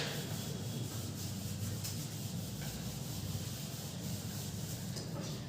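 An eraser rubbing out writing on a board or notebook while a quadratic equation is worked out, giving a steady, continuous scrubbing sound close by with no talking.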